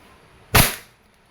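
A WE Airsoft Glock 34 gas pistol with two-tone silver slide and black frame fires a single sharp, loud shot that decays quickly, alone against a quiet background.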